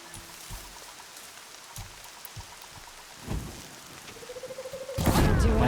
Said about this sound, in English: The rain actually doesn't help.